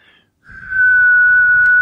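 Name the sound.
person whistling a tune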